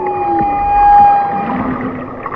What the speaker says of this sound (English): you can hear the whales sing or talk to each other